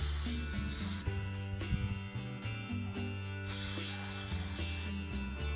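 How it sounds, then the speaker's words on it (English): Spray paint hisses from a can onto a wooden hammer handle in a few close, continuous bursts with brief breaks, a harsh airy rush with some rattling and rubbing. "we're gonna spray this on the wood, which is exciting"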